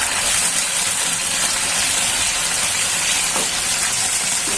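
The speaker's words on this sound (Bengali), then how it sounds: "এখন দিয়ে দিচ্ছি পরিমাণ মতো রসুন বাটা," Garlic paste fries in a pan with a dense, steady hiss of sizzling oil, loud and unbroken, with no one speaking.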